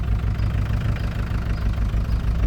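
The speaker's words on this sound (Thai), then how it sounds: "ก่อนอื่นเผาหัวนิดนึง ครับมานี้ก็ติด" A used diesel pickup truck, a heavy-use load carrier, idles just after starting, its low steady rumble loud and close with a faint rhythmic knock running through it and no voices.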